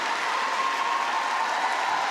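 Steady, dense applause fills an arena at a figure skating Grand Prix final in Russia, a continuous wash of clapping from a large crowd with no break.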